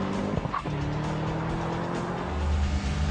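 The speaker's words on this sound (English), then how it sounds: "The Camaro is also remarkably easy to launch hard" A Chevrolet Camaro launches hard on a quarter-mile run, a close engine roar with a rising pitch and a brief tire chirp early on.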